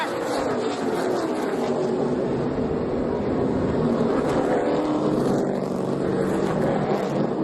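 NASCAR stock cars race at Pocono during the 2012 Pennsylvania 400, a loud, continuous engine roar washing past without a break.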